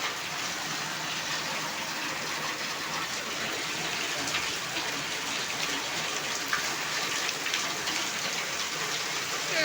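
Heavy rain pours down suddenly, drumming steadily on roofs and ground as a dense, continuous hiss that stays loud and unbroken throughout.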